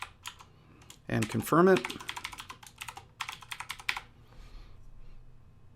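Someone types a password on a computer keyboard, a quick run of close, crisp key clicks in irregular bursts, with a short spoken phrase partway through.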